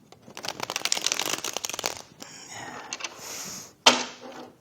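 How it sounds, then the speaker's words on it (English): Shuffling a deck of playing cards with cold, swollen fingers: a burst of riffling, flicking card noise, then softer shuffles and a sharp slap near the end, close and moderately loud. "So I can't even shuffle these cards."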